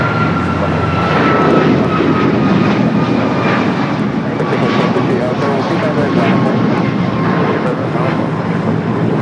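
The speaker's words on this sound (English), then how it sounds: "This is that American Dreamliner that came in from London Heathrow." An American Airlines Boeing 787 Dreamliner at Los Angeles airport rumbles with a loud, continuous jet engine roar and a steady whine, while a voice talks over it.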